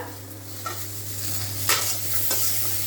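Chicken with green chillies sizzles steadily in a pan while a utensil scrapes and stirs through it in a few quick strokes, close and alone.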